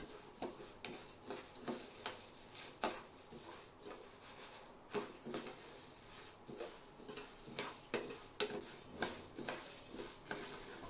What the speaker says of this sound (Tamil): இதுக்கு மீடியம் ஃப்ளேமில் வச்சு விடாமல் கிளறி விடணும்